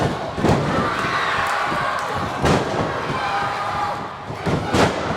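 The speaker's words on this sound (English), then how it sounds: "Psycho Mike with a series of big tackles." Heavy thuds of a pro wrestler landing a series of big tackles in the ring during a six-man tag match, three loud impacts spaced about two seconds apart over a steady roaring arena crowd.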